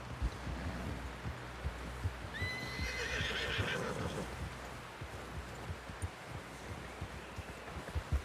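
A horse in the video game Red Dead Redemption 2 whinnies in a rising, shaky call, with hooves clopping and soft rustling around it at moderate distance.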